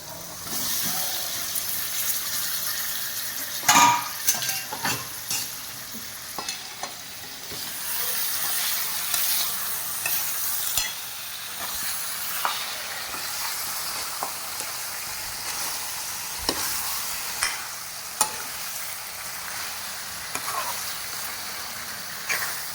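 Fish pieces dropped into oily masala frying in a pan, a constant loud hissing sizzle with scattered clacks and scrapes of stirring throughout.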